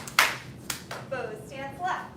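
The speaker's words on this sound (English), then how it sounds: "Clap." Sharp hand claps ring out in a kung fu class, a couple of distinct smacks followed by an instructor's voice calling out over the room.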